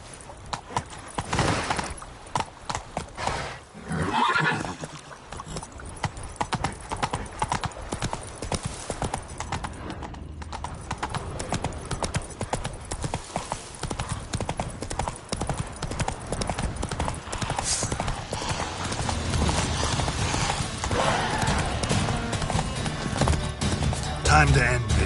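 Horse hooves galloping in The Witcher 3, a fast rhythmic clip-clop that runs steadily throughout, with an occasional whinny and game sounds mixed in around it.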